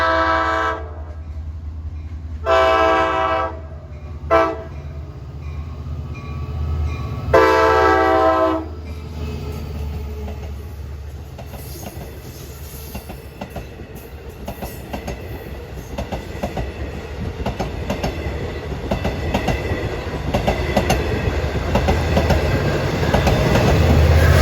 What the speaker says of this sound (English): That horn. That is one of the best K5LAs.